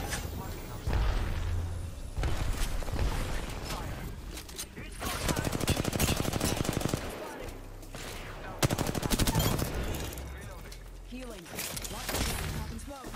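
Apex Legends gunfire: repeated bursts of automatic weapon shots and rapid single shots in several volleys, with players talking over the action.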